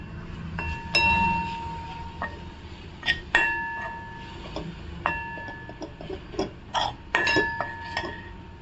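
A metal spoon clinks repeatedly against a pan while coconut burfi mixture is stirred with ghee, giving bright ringing taps at an irregular rhythm over a soft scraping, stirring background.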